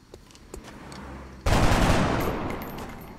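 Gunfire erupts in the turn-based strategy game XCOM: Enemy Unknown: after a quiet stretch with a few small clicks, a loud sustained volley of shots bursts in and slowly fades.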